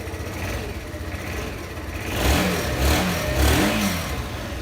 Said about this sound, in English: The exhaust sound of the Honda